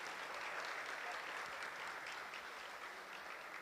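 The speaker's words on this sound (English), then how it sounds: "We can give a big round of applause to welcome him." An audience at a Sunday program applauds to welcome a speaker, a steady, fairly faint wash of many hands clapping throughout with no break.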